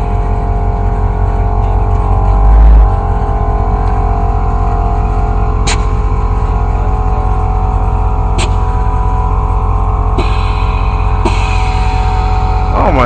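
A loud custom Chevy 1500 pickup on 28-inch wheels with air bags, its engine rumbling and revving hard, a dense continuous exhaust roar up close with a short deeper surge early on.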